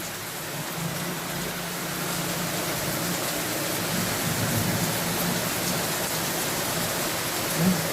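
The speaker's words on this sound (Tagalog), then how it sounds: "Napakalakas ng ulan." Steady, heavy rain pouring down in a continuous hiss, with no voices, and a faint low background rumble.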